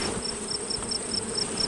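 Honey bees buzz around an open hive during a honey harvest, a steady droning hum with a faint high whine pulsing at a regular rhythm, close and even throughout.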